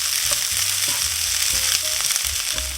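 Corned beef hash browning and crisping in a pan, a steady dense sizzle with occasional soft scrapes and pops, close and continuous with no talking.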